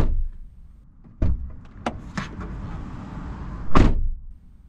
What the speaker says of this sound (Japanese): ドア閉めた音はこんな感じ。